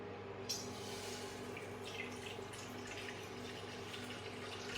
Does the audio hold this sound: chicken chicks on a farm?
no